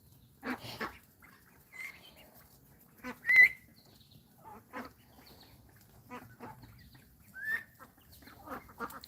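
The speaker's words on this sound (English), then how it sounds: "Those are the ducklings." Young ducklings on a farm, calling in short, scattered high peeps and chirps with brief gaps between them, moderately faint and heard alone over low background rustle.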